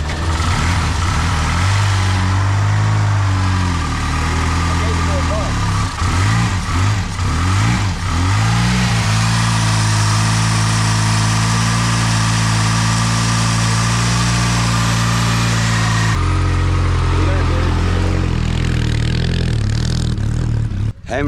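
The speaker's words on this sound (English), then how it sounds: "Are you giving it some throttle?" A prewar racing car engine at a vintage hill climb runs loud and close, holding a rough throaty idle and rising into repeated throttle blips and revs that last the whole stretch.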